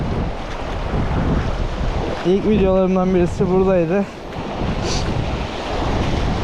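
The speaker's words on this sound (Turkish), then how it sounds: "Rüzgar karşıdan alıyor." Steady wind gusts blowing head-on and surf noise at a seashore in Izmir, with someone talking briefly in the middle over the blustery rush.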